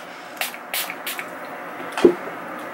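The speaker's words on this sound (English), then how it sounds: "I'm going to get my setting spray." Several quick hissing spritzes from a makeup setting spray bottle, a few in a row and then one more after a pause, close and fairly crisp.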